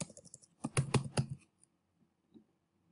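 Quick bursts of computer-keyboard keystrokes while entering a spreadsheet formula, a short run of crisp clicks that builds into a denser flurry, then a few stray taps and quiet.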